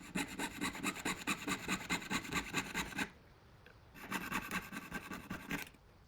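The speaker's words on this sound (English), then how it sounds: "I'm cutting a piece from this off-cut silver bar." A saw cuts through an off-cut sterling silver bar, rasping in a steady back-and-forth rhythm of quick strokes, close and fairly loud, pausing briefly for about a second before the sawing resumes.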